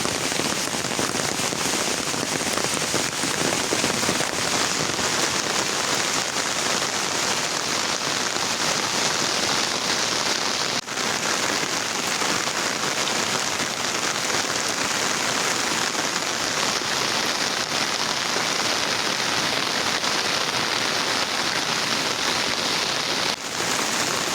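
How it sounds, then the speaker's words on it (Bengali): Dense, steady downpour drums on surfaces without letup, a loud continuous hiss of heavy rain with no voices. "হিউজ পরিমাণে বৃষ্টি চলতেছে"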